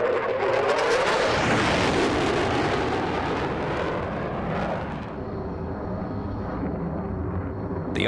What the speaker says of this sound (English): the Mirage is agile and responsive, everything you need in a fighter aircraft